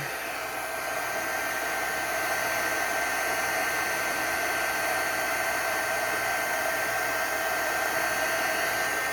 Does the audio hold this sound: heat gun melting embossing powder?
yes